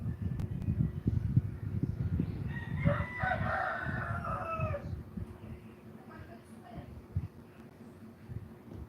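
A rooster crows once in the middle of the clip, sounding somewhat distant, over steady low background noise and handling sounds in a home setting.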